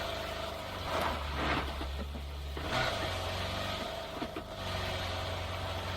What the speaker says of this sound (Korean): 오른쪽 차 소리 겹친다 겹친다 바로 앞에 차